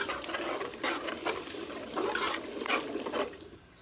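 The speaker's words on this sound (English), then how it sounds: "Give it a quick stir." Fresh rinsed cranberries are stirred in a pot for homemade whole-berry sauce, a soft, wet sloshing and patter of berries and liquid, fairly faint and continuous with no talking.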